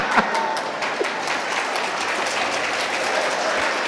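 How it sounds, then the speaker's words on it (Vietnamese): Audience applause in a church during an evening Advent homily, a steady wash of clapping sustained for several seconds at moderate volume with no speech over it. "Sao lại vỗ tay?"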